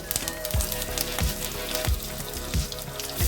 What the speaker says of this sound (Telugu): పచ్చిమిర్చి వేసేసి బాగా ఫ్రై చేసుకోవాలి.